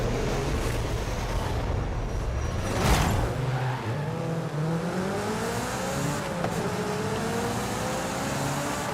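A Honda S2000 in Forza Horizon 5, stock and revving high while driving, gives a steady loud engine drone throughout with tire squeal and rising and falling pitch sweeps as it accelerates and shifts.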